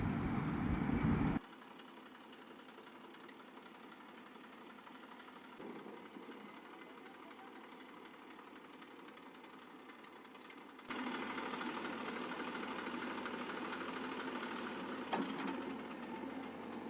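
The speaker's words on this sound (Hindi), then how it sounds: "और अब ट्रैक्टर लगा रहे हैं बैक।" Tractor engine idling and running steadily as it backs up at an earth-digging site to load a trolley with soil, a continuous mid-level drone that grows louder and rougher toward the end.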